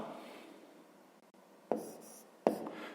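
Handwriting on paper during a fifth-grade math lesson, heard as faint, soft scratching of a pen with two sharper taps or strokes near the end, close up and quiet.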